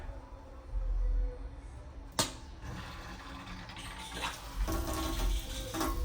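Water runs from a newly installed Temu kitchen faucet into a sink at low pressure, a thin steady hiss that swells and eases, broken by a sharp knock midway.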